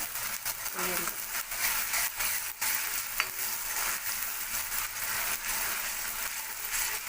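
Ingredients for a potato and spinach curry fry in oil with a continuous crackling sizzle, broken by repeated scraping stirs of a spoon against the pan.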